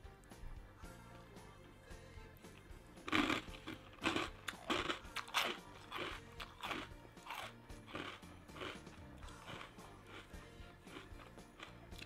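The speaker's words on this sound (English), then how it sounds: "I like mine like halfway, somewhat crunchy, little bit soggy" Crunchy Golden Girls Funko cereal being eaten up close, with repeated loud bites and crunches in an irregular chewing rhythm. No one talks.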